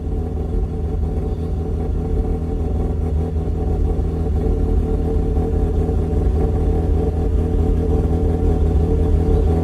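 A 2004 Mazda RX-8 rotary track car with idle trouble runs steadily and loudly up close, a continuous rumbling idle with slight rises in revs and no pauses.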